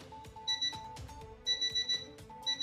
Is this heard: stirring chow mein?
no